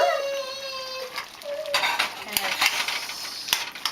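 Scrambled eggs tip into a hot pan for a tomato egg dish, then a metal utensil clinks and scrapes as they are stirred, sharp taps over a faint sizzle.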